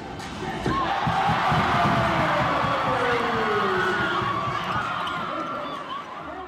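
A basketball crowd roars and cheers after a successful second attempt, a loud sustained swell of voices that rises quickly, holds, then slowly tapers off.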